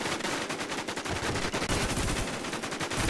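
Continuous rapid gunfire in the online shooter Warz, dense automatic bursts crackling loudly and steadily across the whole stretch with no pauses.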